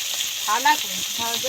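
Shrimp fry in a hot pan with a continuous close sizzle, while a voice talks faintly underneath.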